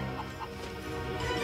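Chickens cluck softly in a cartoon, a faint burst of short clucks mixed with background music and ambience.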